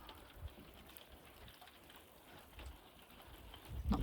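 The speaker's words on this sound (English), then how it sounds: "Not bothered that it's raining." Steady rain patters on a vehicle roof during a rainy day in Norway, a soft continuous hiss with scattered droplet taps and a few louder knocks near the end, no voices.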